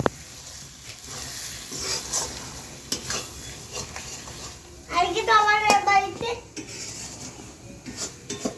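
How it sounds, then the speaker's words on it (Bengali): Spices being fried and stirred in a home kitchen pan, with intermittent scraping and clinking of a utensil against metal over a faint background sizzle, while people chat nearby throughout. "এখানে মশলা কষানো চলছে এখনো"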